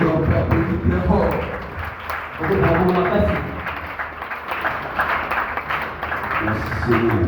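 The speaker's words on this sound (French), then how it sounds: "Est-ce qu'on peut applaudir très fort?" Mourners at a funeral clapping loudly in a large gathering, a broad rhythmic wash of applause that swells and dips, with voices talking and calling out over it.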